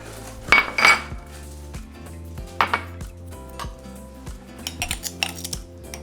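A utensil stirs sugar and cinnamon into flour in a bowl for Mexican conchas, producing close clinks and scraping knocks against the bowl in uneven bursts, louder at the start and again near the end.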